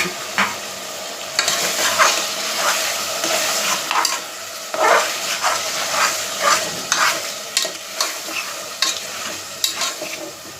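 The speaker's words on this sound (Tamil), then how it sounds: "இப்போ இந்த ஸ்டேஜில் இப்போ தக்காளியை போட்டுக்கிறேன்" Seven chopped tomatoes fry and sizzle in a pan with a steady hiss, while a spoon stirs and scrapes in a repeated rhythm of clear, close strokes. No one speaks.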